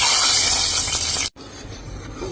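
Hot oil tempered with cumin poured into mashed spinach, a loud, bright hissing sizzle that cuts off abruptly, followed by a fainter, softer bubbling, with no talk.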